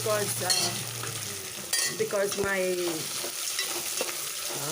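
Potato fries sizzle and crackle in a hot pan while being stirred, close by, with a brief voice speaking partway through.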